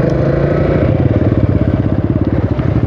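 A Suzuki Gixxer 150 motorcycle riding in first gear, its single-cylinder engine thumping in a loud, close, steady pulsing rhythm with no talk over it.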